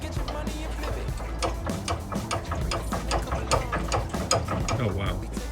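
A ratchet strap being cranked tight in a vintage Volkswagen workshop, a long run of rapid, loud mechanical clicks in an even ratcheting rhythm close to the microphone.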